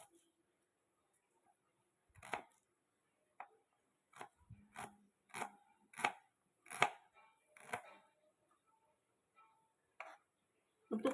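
A knife thinly slices shallots on a board in a quiet kitchen, producing a run of about a dozen crisp, close chopping taps at an irregular pace.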